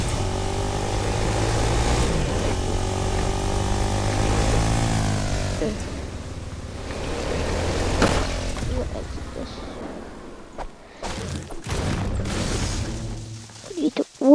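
An airplane engine in the Fortnite video game drones loudly with a buzzing, propeller-like tone that glides down in pitch, then cuts out in choppy bursts near the end.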